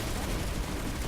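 Dense, continuous gunfire and explosions from a Planetside 2 battle, a steady loud wash of shots with no clear gaps.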